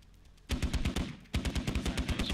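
Rapid automatic gunfire in the Squad military shooter game, two loud bursts of quick, evenly spaced shots close by, separated by a short pause.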